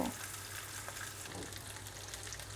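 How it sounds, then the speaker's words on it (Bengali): A rohu fish head fries in hot oil in a pan, giving a steady, even sizzle that stays fairly quiet and unbroken for a few seconds, with no speech. "তেলটা গরম হওয়ার পর মাছের মাথাটা দিয়ে দিয়েছি এখন আমি এটা ভেজে নিব"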